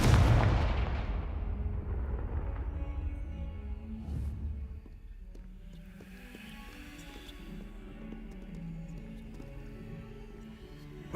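Fiery Confringo spell blasts in the Hogwarts Legacy video game: a heavy booming explosion opens loud and close, then rumbling blasts fade into softer crackling and lingering game ambience.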